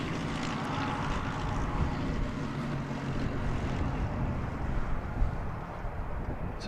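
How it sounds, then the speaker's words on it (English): A Jetstar airliner taxiing at Christchurch Airport, New Zealand, gives a steady distant engine drone and rumble that holds evenly throughout with no talking. "236 is taxiing."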